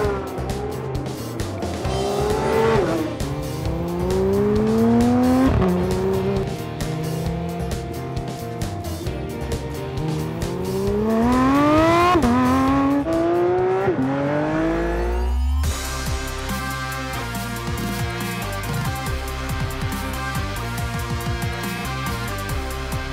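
Porsche 911 GT3 driven hard, its engine climbing through high-revving gear pulls with quick shifts, loud and close, then dropping to a low idle rumble after about fifteen seconds, with no talk.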